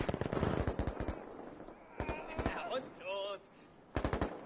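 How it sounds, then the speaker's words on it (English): Rapid automatic gunfire rattles through an esports shooter match, coming in fast bursts separated by short pauses, with a faint electronic chime in the middle; a commentator talks over the shooting. "They're shooting at each other"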